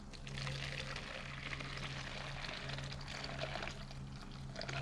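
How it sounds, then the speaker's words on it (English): Hot water poured from a kettle over spray paint cans, a steady broadband splashing pour running continuously with a low steady hum underneath. "put some boiling water over it"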